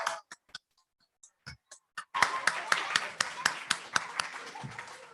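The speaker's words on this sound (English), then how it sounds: "if we give them a big cheer and a big round of applause" Audience at a COP26 event claps for Holyrood High School students, starting as a few scattered claps, then swelling into steady applause from a moderately distant crowd.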